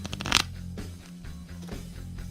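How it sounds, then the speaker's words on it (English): A short, crisp riffle of cards fluttering together, followed by a few soft taps and handling sounds. "when you riffle the other way, you can see the entire pack is shuffled"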